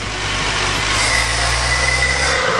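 A 1977 Dodge van engine runs with a loud, close, steady rumble and hum that holds even throughout, with no voices.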